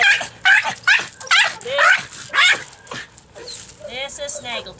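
Small indoor dog barking excitedly in a run of sharp, high yips and whining barks, about six in quick succession, close and loud, ending in a softer whimpering whine.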